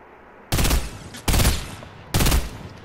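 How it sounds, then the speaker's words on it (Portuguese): Three loud gunfire bursts in the Fortnite video game, each a short harsh rattling volley about three-quarters of a second apart in time, separated by quiet stretches. "Dei dois tiros"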